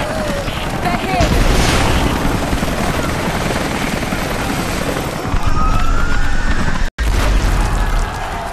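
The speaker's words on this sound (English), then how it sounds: "Those choppers should be in range soon. They're here." Helicopters arrive in Rise of the Tomb Raider on Xbox One, a loud continuous rotor roar with rumbling wash that fills the scene, cut by a momentary dropout before resuming.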